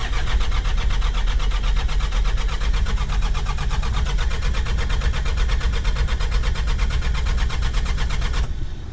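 An old diesel ranch truck engine cranks without glow plug preheating, a loud steady rapid churning of the starter that never catches, then cuts off abruptly near the end.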